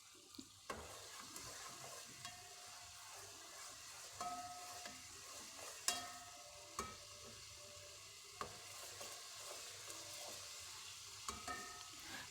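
Seven or eight whole black peppercorns roasting in a pan while cooking brain masala, a faint steady sizzle punctuated by occasional stirring clicks and scrapes, quiet and without talk.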